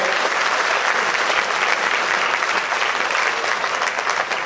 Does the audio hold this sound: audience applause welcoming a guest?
yes